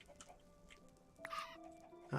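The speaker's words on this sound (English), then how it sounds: "I need to feed the chickens before I go" Chickens cluck in short, soft bursts while being fed, a few faint calls scattered over quiet background, ending with a louder squawk.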